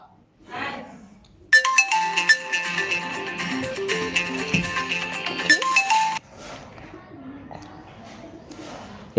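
A phone ringtone plays a loud melodic tune for about five seconds, with quieter background sounds before and after it.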